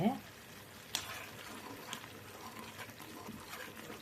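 Butter simmering down into ghee in a pan, stirred now and then; a low, steady bubbling sizzle with a few soft utensil scrapes, close by and without speech.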